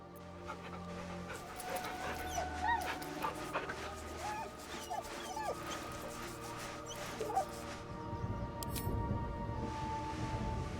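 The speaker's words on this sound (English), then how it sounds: "The dog whimpers nervously" A dog in Baldur's Gate 3 whimpers and pants softly, low nervous whines repeating over a quiet game ambience with a rumbling tone near the end.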